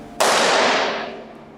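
A balloon filled with expanding liquid nitrogen bursts with a single sharp, loud bang, close by, and its noisy wash fades away over about a second and a half.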